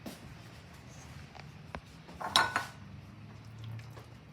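Mashed potatoes are moved from a pot into a bowl with soft, sparse scrapes and a few sharp clinks of utensil against dish, quiet overall with a brief louder clatter midway.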